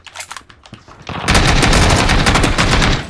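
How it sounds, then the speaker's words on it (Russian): Sparse single shots ring out first in PUBG, then rapid automatic gunfire erupts loud and close, sustained bursts rattling on for about two seconds before easing off. "Он по мне стреляет."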